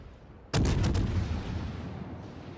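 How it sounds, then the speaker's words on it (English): AP shells fired from the French battleship Jean Bart in World of Warships, one sudden heavy booming salvo with a long rumbling decay fading out, no voices. "she seems very happy to keep deploying her AP shells"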